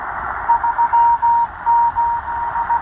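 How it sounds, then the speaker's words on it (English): A Tecsun PL-330 portable radio tuned to upper sideband picks up the M12 Russian numbers station sending Morse code: a clear, steady tone keyed into short and long beeps over a constant bed of static hiss. "Russian number station in Morse code"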